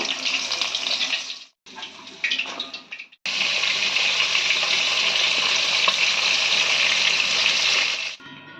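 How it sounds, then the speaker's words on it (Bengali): Fish pieces fry in hot oil with a loud, dense sizzle that breaks off briefly twice before roaring steadily for several seconds and then cutting out. "বাকি মাছগুলো একইভাবে আমি ভেজে নেব।"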